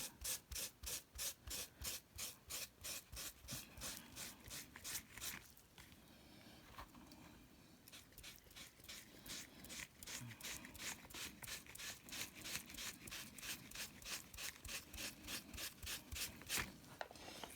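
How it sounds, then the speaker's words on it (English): Paper being rubbed off a picture transfer on wood: a steady rhythmic scrubbing, close and fairly quiet, in fast back-and-forth strokes with a brief pause midway. "So you gotta lightly rub."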